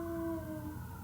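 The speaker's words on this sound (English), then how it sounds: "Oh my God, that's my dog howling." A dog howls at passing sirens, one long, steady, tonal wail that holds its pitch and slowly fades across a brief moment, heard alone with no talking.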